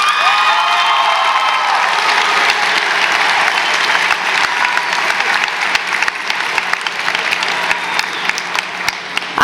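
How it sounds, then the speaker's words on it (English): Dense, loud applause fills a high school graduation ceremony, steady and sustained for several seconds with a few scattered cheers from the crowd. "please give your family and your teachers a well-deserved round of applause"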